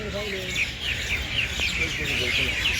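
Birds chirp and tweet continuously in the background, a busy chorus of calls over a low steady hum, at dawn at Sri Fatehgarh Sahib.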